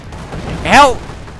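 Nebelwerfer rocket artillery in the Company of Heroes video game lets out a single rising, wailing whoosh that swells and fades within about a second, over a low game background with a commentator talking.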